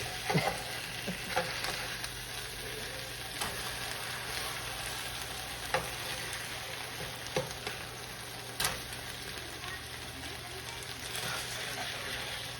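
Hamburger patties sizzle in a pan as they are flipped, a steady crackling fry running throughout with a few sharp scrapes and taps from the turning.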